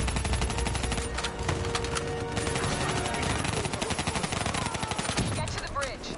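Sustained video game gunfire laying down cover, dense rapid automatic bursts and shots overlapping continuously and loudly throughout, with a voice speaking briefly in the mix.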